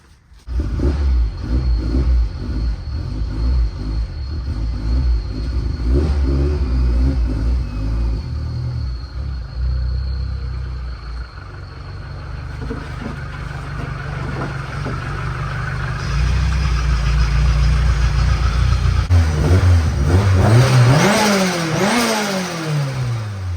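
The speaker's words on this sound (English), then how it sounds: "Pull it in the garage for the first time." A turbocharged K24-swapped Honda S2000 drift car rumbles close by as it idles and revs, blipping the throttle repeatedly while creeping into a garage, the engine note rising and falling throughout.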